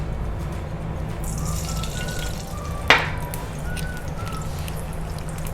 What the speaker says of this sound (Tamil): pan நல்லா ஹீட் ஆனதும் 1 tablespoon ghee சேர்த்துக்கோங்க.